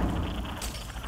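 Glass shatters in Rainbow Six Siege gameplay on the Chalet map, a sudden bright crash about halfway through over a dense, busy game soundscape.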